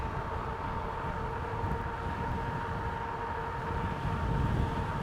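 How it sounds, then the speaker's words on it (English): Steady wind roars and buffets the microphone throughout, a constant low rumble with no voices. "it's kind of windy today."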